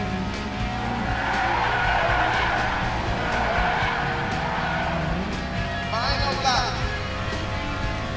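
In an Xbox indie racing video game, a race car drifts with sustained tire skidding and squealing over a loud engine drone, with a short chirping burst of squeal near the end.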